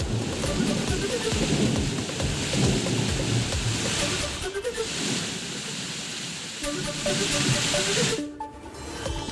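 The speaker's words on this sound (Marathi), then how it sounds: "वादळी वारा आणि विजेच्या कडकडाटासह पाऊस" A thunderstorm with steady heavy rain and strong wind roars throughout, with deep rolling thunder rumbling beneath the dense hiss of rain.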